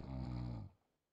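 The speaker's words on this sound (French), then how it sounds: "Mais qui est en train de ronfler là?" A person snoring loudly over an open microphone during an online call, one long rasping snore that fades out into near silence.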